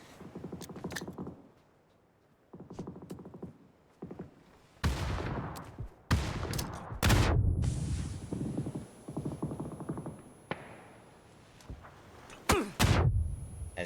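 Gunfire in a Valorant-style tactical shooter pro scrim: several sharp shot bursts and impacts from about 4 seconds on, loud and close, after quieter footstep-like tapping at the start.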